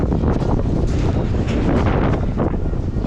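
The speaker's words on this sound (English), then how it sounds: "it is a bit windy, but what can you do?" Strong wind in Wicklow, Ireland, roars steadily across the microphone while fishing, a continuous loud rushing buffet with no pauses.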